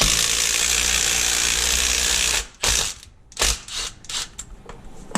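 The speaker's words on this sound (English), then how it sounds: "Get the impact driver." Impact driver fastening a bolt during a mobile mechanic service truck installation, with a sustained loud rattling hammer burst for about two and a half seconds, then several shorter separate bursts close by.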